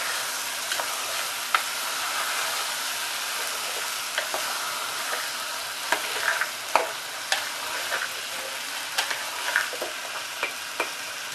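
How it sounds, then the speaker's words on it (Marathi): Potatoes and peas stirred in a hot pan, a steady soft frying sizzle with frequent small scraping clicks of the spoon, close and alone without any voices. "बटाटे टाकूया, छान मिक्स करून घेऊया."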